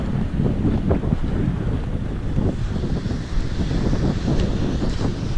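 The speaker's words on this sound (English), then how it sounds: "Let me step out of the wind if I can." Strong wind on the coast of the island of Bonaire buffets the microphone in a constant loud, low roar with gusty swells, and nothing else stands out.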